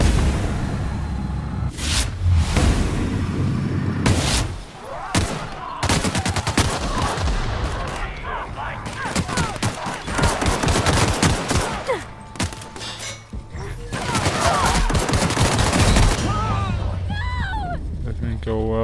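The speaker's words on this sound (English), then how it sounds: "Guess I'll just try to shoot them and see how it goes." Gunfire from a firefight with enemies in The Outer Worlds video game: dense, loud rapid shots and bursts with intermittent louder blasts, continuing almost throughout with occasional lulls, with a voice talking over it.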